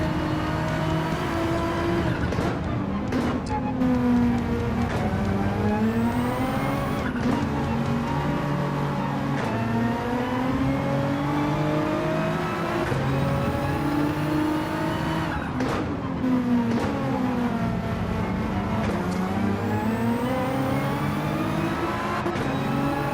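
Porsche Gr.3 race car in Gran Turismo 7 daily race, engine revving and shifting through gears continuously with rising and falling pitch, loud and close, other cars' engines layered in, no talk.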